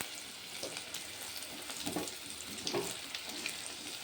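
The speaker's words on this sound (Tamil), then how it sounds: "மீன் பொரிச்சிட்ருக்குறேங்க." Fish shallow-frying in oil in a pan with masala, a steady soft sizzle and crackle running throughout at moderate level, with occasional stirring sounds and no talking.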